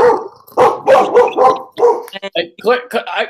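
Dogs bark in short repeated bursts, close by, alternating with a person talking over and between the barks.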